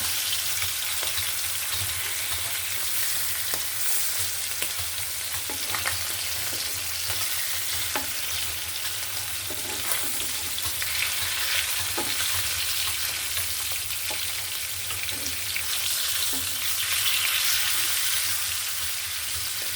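Hilsa fish frying in a pan gives a steady, dense sizzle with small crackles and pops scattered through it, continuous from start to finish with no voices.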